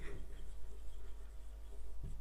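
A teacher writes on a board, a faint close scratching and tapping of the marker or chalk with a firmer stroke near the end.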